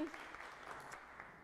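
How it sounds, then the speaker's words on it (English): A church congregation claps during a Christmas Day service, a short, fairly quiet round of applause with some speech mixed in and a voice starting at the very end. "Let's give Ollie a round of applause."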